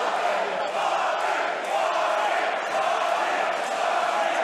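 A boxing arena crowd roars for a fighter's introduction, a dense sustained wall of cheering and shouting with no breaks.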